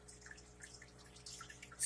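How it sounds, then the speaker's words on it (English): Water drips from tubing into a fish tank in faint, irregular plinks over a quiet background, with a slightly louder splash at the end. "it'll just drip into the tank"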